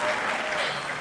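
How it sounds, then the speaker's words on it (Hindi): Brief, loud applause from the audience at a large Urdu poetry mushaira, a dense burst of many hands clapping at once that fades slightly toward the end. "भरपूर तालियां।"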